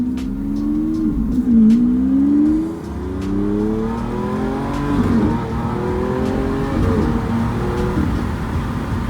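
A car in sport mode accelerates hard, its engine note rising in repeated sweeps, with paddle-shifted downshifts that crackle and blip in between, heard from inside the cabin.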